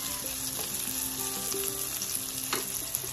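Sauce frying in olive oil in a pan for Nigerian peppered fish crackles in a loud, continuous sizzle, with faint occasional clinks of stirring and no talking.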